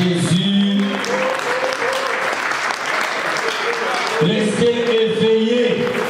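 A church congregation applauds to acclaim Jesus at a French-language service, sustained loud clapping from a full room that holds steady throughout while a voice speaks over it at the start and end.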